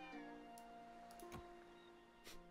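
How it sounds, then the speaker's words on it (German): Cat meowing in the video game Pioneers of Pagonia, a few faint short meows over a steady low hum of game ambience, no talk. "Eine Katze."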